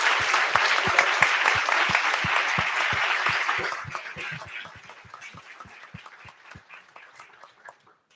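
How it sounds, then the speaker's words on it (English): Sustained audience applause closing a 2024 Halifax mayoral debate, dense clapping that thins out into a few scattered claps and then fades away. "Could we please just give everyone a round of applause for this?"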